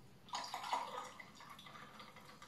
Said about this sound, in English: we will top it up with lemon lime soda